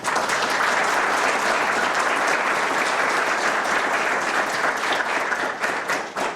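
A room full of people at a law course inauguration ceremony applauds steadily, dense continuous clapping at close range that tapers slightly near the end.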